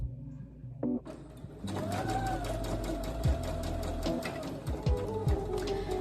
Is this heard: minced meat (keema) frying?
no